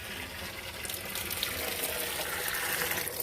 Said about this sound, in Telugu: వాటర్ పడుతున్నాను.